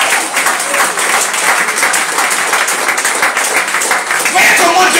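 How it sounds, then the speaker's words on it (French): A church congregation applauding steadily, a dense continuous wash of clapping at close range with voices mixed in throughout. "Acclame pour moi quand même, toi aussi."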